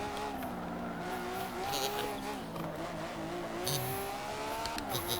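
An Xbox racing game plays through a wireless steering wheel, with a steady engine drone that rises and falls as the car takes a corner, with faint tire squeal at moments, all heard at low level.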